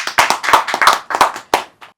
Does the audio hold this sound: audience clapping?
yes